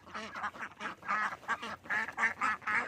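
Ducks quack repeatedly in a rapid, overlapping chorus, steady and fairly close, with no voices over them.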